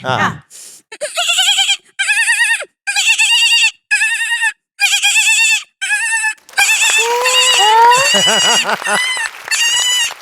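A voice imitates young goat kids bleating, with a run of separate quavering bleats followed by a longer, overlapping stretch of wavering cries, close and loud.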